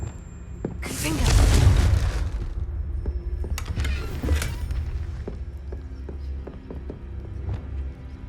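The Confringo fire curse from Hogwarts Legacy bursts as a loud, rushing blast that fades into a rumbling tail, with scattered sharp clicks and thuds from the game following.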